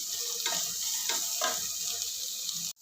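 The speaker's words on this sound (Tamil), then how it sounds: "வெங்காயம் கொஞ்சம் சட்டுன்னு வதங்கும். வெங்காயம் வதங்கட்டும்." Onions sautéing in a pan for a vegetable stew, a steady bright sizzle with a few stirring scrapes, close and continuous until it cuts off abruptly.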